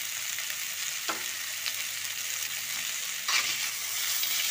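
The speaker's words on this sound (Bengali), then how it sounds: "ভালো করে আলুর সাথে নাড়িয়ে নিয়ে" Potato pieces fry in oil with garam masala and salt, giving off an even, close sizzle. A couple of soft scrapes mark the stirring, and nobody talks.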